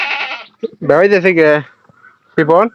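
A goat kid bleats in a few wavering, nasal calls, the longest lasting about a second, with short gaps between them, close and loud, with a brief voice in between.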